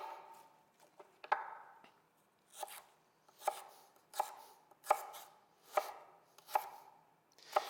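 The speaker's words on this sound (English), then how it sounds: "so I'll cut some more celery real quick" A knife chops celery on a cutting board in a steady rhythm of about ten sharp, distinct thuds, close and clear in a quiet room with no talk.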